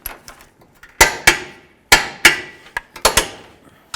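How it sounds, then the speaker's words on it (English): A torque wrench tightens the lower control arm bolts on a 2007-2014 Ford Edge to 111 foot-pounds, giving crisp metallic clicks in close pairs and bursts, loud and near, with no talking. "let's torque this to 111 foot-pounds"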